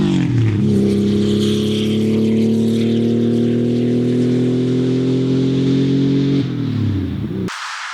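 An old air-cooled, turbocharged Porsche drives along, its engine a loud, steady drone with a strong low hum that holds nearly constant for several seconds, then eases off and drops away near the end.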